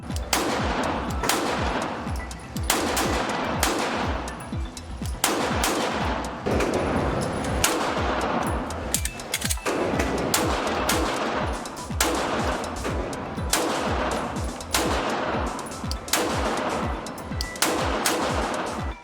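Rapid, loud gunfire from a Glock 19 Gen 5 9mm pistol fitted with a dual recoil spring: a long run of sharp shots, some in quick strings and others spaced, filling the whole stretch with no talk.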